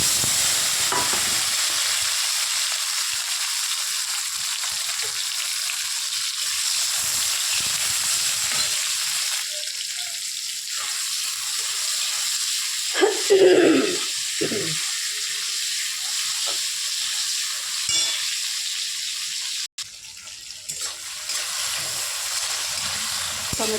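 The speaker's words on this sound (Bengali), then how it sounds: "মাছ ভাজা রেডি হয়ে গেছে, এখন দিয়ে দেবো এই তেলের মধ্যেই টমেটো।" Tomatoes frying in hot oil left over from frying sorputi fish, giving a loud, continuous sizzle throughout with a brief louder crackle partway through, no voices.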